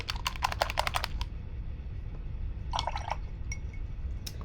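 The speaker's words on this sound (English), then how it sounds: "wash my brush again" A paintbrush is swished and tapped in a water cup, giving a quick cluster of small clicking splashes, then a pause and a second short burst of rinsing, close and fairly soft.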